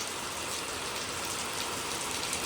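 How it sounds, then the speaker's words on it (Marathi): Heavy unseasonal rain in coastal Konkan, a dense, even hiss of downpour on surfaces, steady and fairly faint throughout, with no voices. "तर धुवाधार पाऊस बघायला मिळतो आहे"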